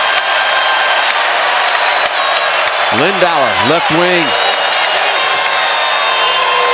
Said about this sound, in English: Crowd gets into it.